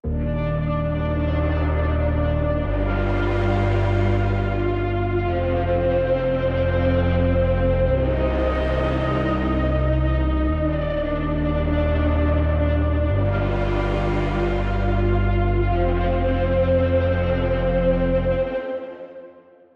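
A processed vocal sample with heavy reverb, sustained tones changing pitch every few seconds before fading out at the end.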